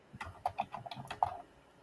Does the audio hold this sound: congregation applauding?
no